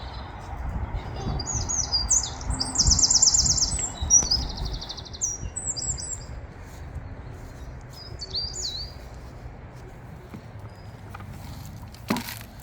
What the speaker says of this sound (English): No, it's a bird.